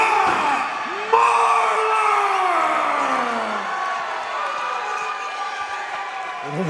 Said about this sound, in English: Whoa, you hear that crowd. Huge crowd.